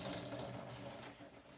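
Water runs steadily from a tap while raw sheep fleece is washed in a sink, a close, continuous splashing rush that stays fairly even before easing slightly near the end.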